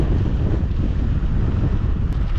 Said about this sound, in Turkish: Rüzgar bayağı bir arttı.